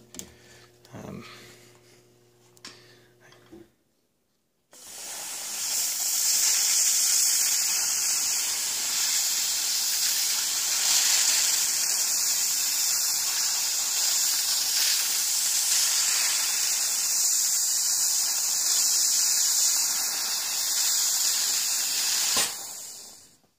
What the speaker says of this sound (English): let me show you when I push this what kind of mist I'm getting out of this.